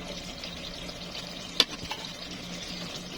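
Spices frying in a pan as tomatoes, green chillies and cauliflower go in for a minced-meat cauliflower curry: a soft, steady sizzle with one sharp clatter midway, fairly quiet and close.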